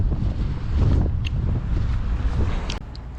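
Wind buffeting a microphone outdoors on a breezy, sunny day, a steady low rumble with gusty swells that peak early and ease off near the end, no speech.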